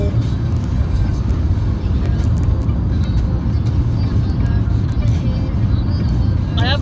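A car being driven along a road, with a continuous low engine and tyre rumble from inside the cabin and a few faint higher sounds near the end.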